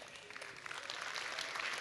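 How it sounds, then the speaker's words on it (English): An audience at a conference opening ceremony applauds, a soft, steady wash of clapping that builds slightly over a couple of seconds. "A big round of applause again for Minuit 12"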